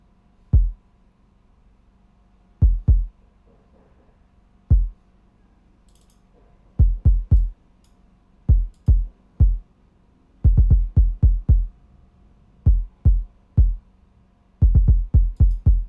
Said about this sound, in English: So this is what the kick sounds like.